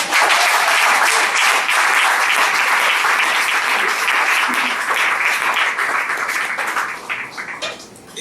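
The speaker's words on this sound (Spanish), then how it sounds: "Un aplauso al Señor." A church congregation applauds during a Sunday sermon, loud dense clapping from many hands that runs steadily for several seconds and then thins out and fades near the end.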